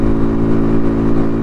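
Motorcycle at full throttle climbing uphill while tailgating a truck, a loud steady engine drone with strong harmonic layers and no pauses, close and continuous.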